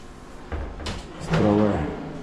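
A soft-close drawer in a new handleless cabinet slides shut in a house nearing completion in Pangasinan, giving a short rolling glide and a cushioned, muffled thud, with a brief voice over the end.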